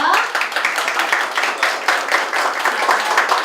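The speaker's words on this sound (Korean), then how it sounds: "먼저 선생님들, 어머님들께 감사합니다 하고 박수 한번 보내드릴게요." Group of people at a school admission information session clap for teachers and mothers, a close, lively burst of hand clapping with quick uneven claps throughout, no talk.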